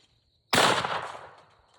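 A single shotgun blast fired at a long-range clay target cracks loudly and close, then its echo fades away over about a second.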